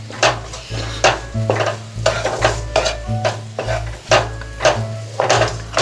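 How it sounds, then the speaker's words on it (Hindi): Thick besan ladoo mixture with milk being stirred in a kadhai, a steady rhythm of scraping, clattering strokes against the metal pan with a faint sizzle underneath, close and fairly loud, with no voices. "आप दूध डालने के बाद मुस्तकिल आपको ये चलाते रहना है इसे।"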